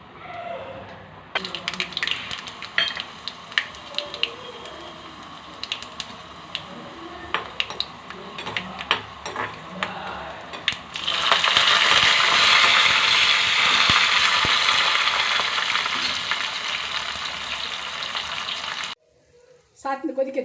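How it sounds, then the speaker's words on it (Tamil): Rasam made with dried red chillies, tamarind and curry leaves bubbles and sizzles in a pot in a home kitchen, a steady loud hiss that swells midway after scattered clinks and stirring, then cuts out near the end. "சாத்துமது கொதிக்கிறது பாருங்க. இந்த மாதிரி நல்லா கொதிக்கணும்."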